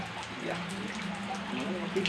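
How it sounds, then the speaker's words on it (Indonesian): Rain falls outdoors in a steady, soft patter of drops on surfaces, continuous and moderately close with no break. "Kebetulan hujan ya"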